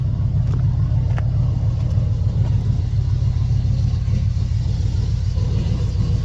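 A small-block V8 truck engine idles low and steady after a carburetor swap, an even, throbbing rumble, close by and unchanging throughout, with no talking.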